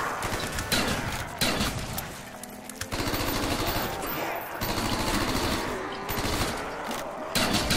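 Shotgun blasts and other gunfire ring out in a zombies video game, coming as dense, loud bursts packed closely together across the whole stretch, with a faint voice underneath.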